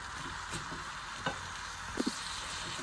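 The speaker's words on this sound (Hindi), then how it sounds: "चलिए 1 से 2 मिनट हम दाल को भून लेंगे अच्छी तरीके से।" Chana daal roasting in a pan gives a steady, soft sizzle with a few light scrapes and taps of stirring, fairly quiet and close, with no talking.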